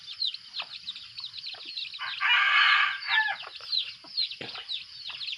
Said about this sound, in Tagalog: tilaok ng ating mga pangati, labuyo.